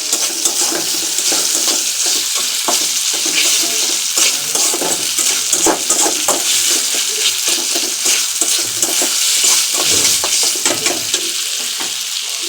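Bamboo leaf mash with salt and ginger-garlic paste being stirred in a hot pan, giving a steady, close sizzle with a scraping spoon throughout, no voices.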